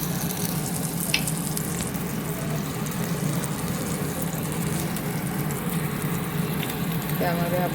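Dry potato bhaji cooks in an iron kadai with a faint, steady sizzle, broken by a few light clinks and stirring sounds.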